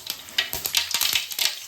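Mustard seeds splutter and pop in hot oil in a pan, a rapid, uneven crackle of sharp little bursts over a steady sizzle, close up and with no talk.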